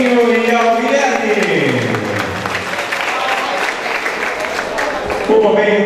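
Applause for the godfather at a Brazilian fifteenth-birthday party, steady clapping running under loud waltz music and some voices throughout.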